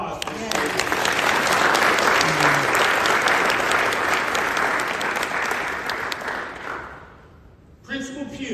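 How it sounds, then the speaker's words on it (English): Loud, sustained audience applause fills a high school graduation ceremony for about seven seconds, then tapers off as a voice starts speaking again. "So a round of applause for this."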